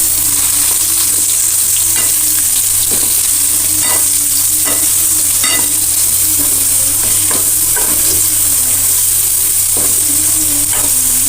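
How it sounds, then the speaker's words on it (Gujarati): Raw mango pieces are stirred into gunda pickle in a pan, making a steady sizzle and regular scraping strokes roughly every second, loud and close, over a constant hum. "હવે આપણે કાચી કેરીના ટુકડા ઉમેરી દેશું બરાબર મિક્સ કરશું"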